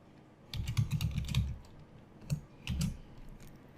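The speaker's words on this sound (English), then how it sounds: "And then type begin again." Keystrokes on a computer keyboard while writing LaTeX code, a quick burst of close clicks followed by two short clusters after a pause, fairly soft with no talking.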